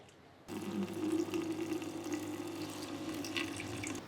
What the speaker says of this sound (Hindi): ये डायरेक्ट पानी ऐड कर रहे हैं, देखिए ये डायरेक्ट हमने पानी डाल दिया।